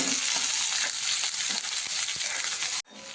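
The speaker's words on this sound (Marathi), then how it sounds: "तुपामध्ये कांदा परतून घ्यायचा" Onion sautéing in hot ghee makes a loud, dense, steady sizzle with light stirring crackles, close to the pan, then cuts off abruptly near the end.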